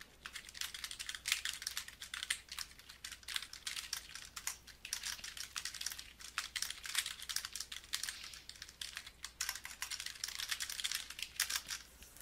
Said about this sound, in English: Then we're going to type a few sentences.